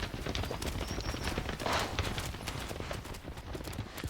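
Senne horses galloping across open heathland at a biological station, a dense, irregular drumming of hooves on soft earth, fairly faint and continuous with no talk over it.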